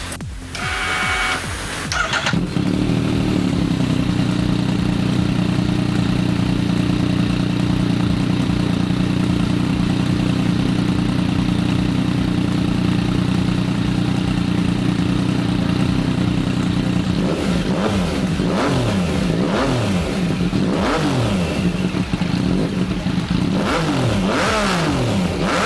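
A turbocharged Yamaha MT-09 motorcycle engine with its muffler fitted starts with a loud catch, settles into a steady, rumbling idle for a long stretch, then is blipped through a series of sharp, rising and falling revs close by.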